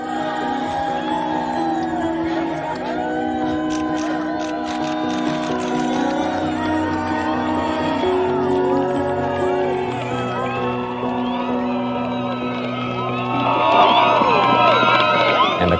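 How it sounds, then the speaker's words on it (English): A crowd at the foot of El Capitan in Yosemite National Park cheers, whoops and shouts as climbers top out on the Dawn Wall. Voices overlap continuously, with a louder surge of cheering near the end. "the crowd cheered as the two men accomplished a feat many said was impossible."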